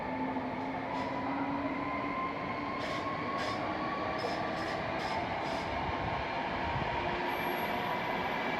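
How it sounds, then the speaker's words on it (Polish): A Husarz electric locomotive pulls away with the last train of the day to Berlin, a steady rumbling drone with rising whine tones and faint squeals, fairly distant and continuous. "Ładny widok dodamy jeszcze tutaj odjeżdżającego husarza. Ostatni pociąg dnia do Berlina."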